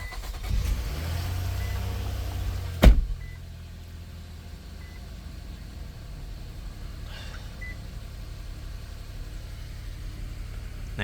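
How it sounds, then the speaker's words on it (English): An Infiniti QX60 engine starts with one loud burst of cranking and catching, then settles into a low, steady idle rumble close by. "Start up the vehicle."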